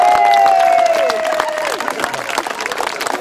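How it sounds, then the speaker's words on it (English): A crowd at a BBQ festival hot wing contest applauds loudly in a dense wash of clapping and a few cheers, fading slightly over a few seconds, with a whistle-like tone sliding down at the start. "Can we get a round of applause for the guys here?"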